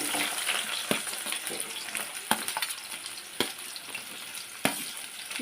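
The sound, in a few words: onions frying in a pan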